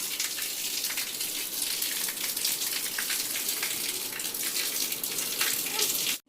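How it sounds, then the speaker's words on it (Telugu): Torrential rain that has been pouring for an hour, a dense continuous rushing hiss of heavy downpour, steady and loud throughout. "వర్షం అయితే చూడండి, కుండపోత వర్షం అంటారు కదా, అలా అయితే కురుస్తుంది వర్షం."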